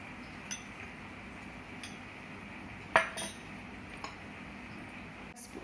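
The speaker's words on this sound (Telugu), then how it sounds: "ఒక స్పూన్ నిమ్మరసం వేసి మొత్తం కలిసేలాగా కలిపేసుకోవాలి" A spoon mixes brown bread salad in a bowl, giving faint, scattered clinks against the dish with one louder knock midway, over a quiet background and no talk.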